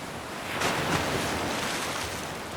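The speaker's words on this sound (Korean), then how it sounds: "또 한 번 산더미 같은 파도가 덮쳤다" Huge ocean waves crash over a sailing ship in a storm, a dense, roaring wash of surf and wind that swells and stays loud throughout, with no voices.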